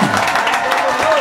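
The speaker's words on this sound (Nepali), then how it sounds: "हामी सबै जनाले एकचोटी ताली बजाएर हामी स्वागत गर्दछौं" Wedding guests at a Christian marriage celebration in Malaysia break into brief, dense clapping to welcome the couple, and a voice speaks over the applause.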